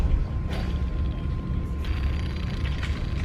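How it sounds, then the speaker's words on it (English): A worn idler pulley bearing on a Honda Civic EK hatch with a turbocharged K20 engine, giving a continuous rough mechanical whir and grinding hum from close by with the engine running. "of course the idler pulley makes noise"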